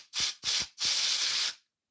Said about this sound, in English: Some air in a can.